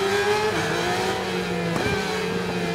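A Stock 600 Cup racing motorcycle in RIDE 4 accelerates down a straight, its engine a steady, loud, close high whine holding pitch with a brief gear-change blip, no voices.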